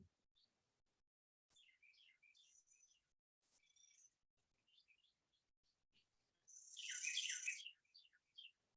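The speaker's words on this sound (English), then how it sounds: "I like the birds in the background, by the way." Birds chirping outside, heard through an open back door: scattered thin tweets and short calls, faint and distant, with one louder burst of song near the end and no talking.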